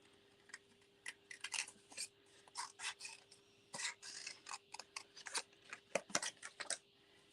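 Scissors snip around paper shapes, a close series of short, crisp cuts in irregular bursts against a quiet background with a faint steady hum.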